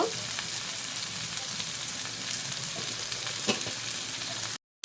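Shredded cabbage frying in oil alongside mixed vegetables makes a continuous close crackling sizzle with a few scraping stirs, cutting off abruptly near the end; no talking.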